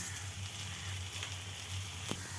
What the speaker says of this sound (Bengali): আমি তেলে খুব ভালোভাবে নাড়াচাড়া করে ভেজে নেব